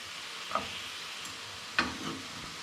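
Döner kebab meat sizzles steadily in a pan after being flipped, with two brief clattering stirs breaking through the close, continuous hiss.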